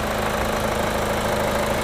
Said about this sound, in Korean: 엔진 소리 역시도 매우 일정합니다.